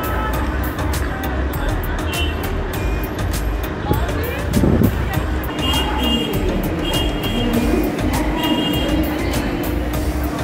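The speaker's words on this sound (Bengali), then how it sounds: "9 নাম্বার থেকে আমাদের ট্রেন দিয়েছে।" A train stands at a railway platform in Dhanbad, producing a continuous low rumble and clatter beneath busy station crowd chatter and voices.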